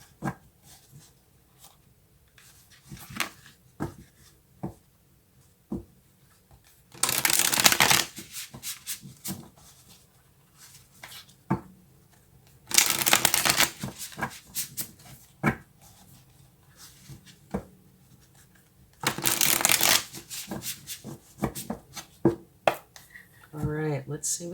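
A tarot card deck is shuffled in three loud, rapid riffling bursts of a couple of seconds each, spread across the stretch, with softer card handling, taps and a voice speaking between them.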